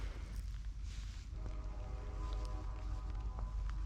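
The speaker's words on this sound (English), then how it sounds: "You can hear the train in the background." A low, distant rumble of a train hangs in the background under faint outdoor noise in Fairbanks, Alaska, with a soft drawn-out tonal hum.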